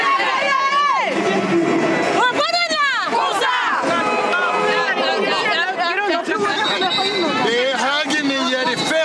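France national team supporters roar and chant in the stands at a women's world championship handball match against Sweden in Spain, a loud, dense crowd of rising shouts and cries that swells and falls continuously throughout.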